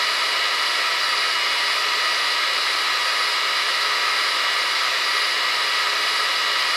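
An air pump blows through the unrestricted hose and air assist nozzle of a laser engraver, a loud, steady, continuous hiss that holds unchanged from start to finish with no talk.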